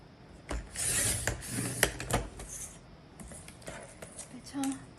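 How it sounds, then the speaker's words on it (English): A paper trimmer slices through cardstock in a few short, close rasping strokes with faint clicks between them, quiet and indoors with no talking. "So trim the cardstock down."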